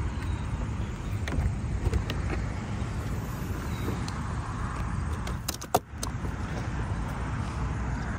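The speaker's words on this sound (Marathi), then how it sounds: "ही आहे गाडीची चावी, डिक्की उघडतो" Keys jangle beside a Ford Mustang convertible with a fabric soft top as its trunk is opened, a soft steady background hum broken by a few sharp clicks of the latch near the end.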